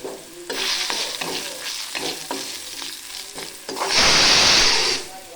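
Garlic and Kirsali greens frying in a hot pan, with steady sizzling and repeated scraping strokes of a spoon stirring, swelling into a loud crackling burst near the end; no talking.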